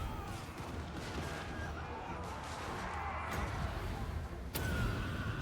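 Great cannon artillery fire in a fantasy battle video game, a dense continuous rumble of booming shots and impacts with a sharp blast near the end, under a busy layer of battle noise.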